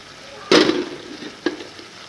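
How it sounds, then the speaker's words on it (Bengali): Spicy desi chicken curry in a pot is stirred in two quick scraping strokes, the first longer and louder, over a soft background sizzle, close up with no talking. "ভালো করে নেড়ে চেড়ে মিশিয়ে নেব।"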